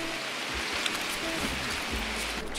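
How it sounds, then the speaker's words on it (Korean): Steady rain in the video game Escape from Tarkov patters softly and evenly, a constant wash of drops with faint low rumbles underneath. "빗소리 때문에."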